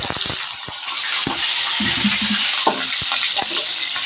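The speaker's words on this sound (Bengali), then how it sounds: "দেখো তেলটা আমার গরম হয়ে গেছে এখন আমি টমেটোগুলোকে ভাজতে" Tomatoes fry in hot oil, giving a loud, close, continuous sizzle broken by irregular clacks and scrapes as a spoon stirs the pan.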